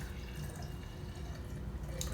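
Vinegar is poured from a large bottle into a big jar during a home science experiment, giving a steady, close liquid trickle and splash that runs continuously for the whole moment.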